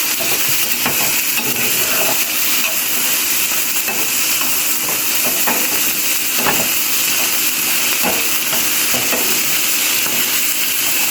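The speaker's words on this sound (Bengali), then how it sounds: "এখন সব কিছু আমি একত্রে বেশ কিছুক্ষণ ভেজে নেব।" Gourd seeds and green chillies frying in a pan, a loud continuous hiss and crackle with occasional faint scrapes, close and steady throughout.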